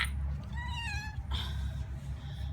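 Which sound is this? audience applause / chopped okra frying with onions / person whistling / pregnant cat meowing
pregnant cat meowing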